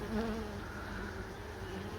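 Honeybees buzz in a dense, steady drone as a colony is moved from a possum box into a hive, a close, continuous hum with individual bees passing near, no voices.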